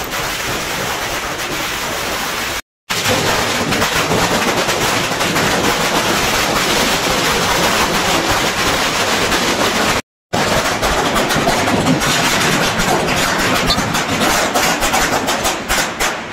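A long, dense run of Diwali firecrackers crackling and popping nonstop at loud volume, with two brief silent gaps breaking the barrage.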